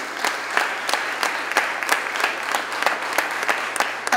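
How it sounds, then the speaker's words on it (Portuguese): A church audience applauds with a steady, dense patter of many hands, fairly distant and even, sustained without break for several seconds. "Pode aplaudir a Deus, aplauda aí"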